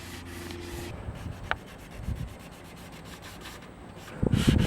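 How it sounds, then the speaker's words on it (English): Quiet hand sanding of a boat hull with a sanding disc near the waterline, soft rhythmic scratchy rubbing strokes with small pauses and a short louder scrape at the end. "grab another disc to just sand the rest at the waterline and around corners and everything else I didn't want to touch with the DA,"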